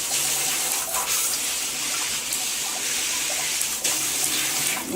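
Water sprays steadily from a rain shower head with a filtered handheld unit, a continuous loud hiss with a few brief splashy surges as the spray hits surfaces.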